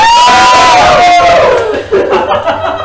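A live game show audience cheers and shouts loudly and continuously, a dense wall of crowd voices swelling and dipping across a few seconds.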